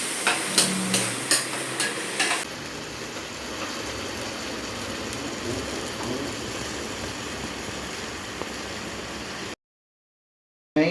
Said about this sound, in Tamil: இந்த தக்காளி வந்து நல்லா கொஞ்சம் ஸ்மாஷ் ஆகிற வரைக்கும் வதக்கிட்டே இருக்கும்.